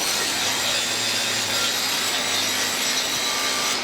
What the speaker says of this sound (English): I cut notches in the shelf for the rear legs and for the wiring channel that runs down the left side of the cabinet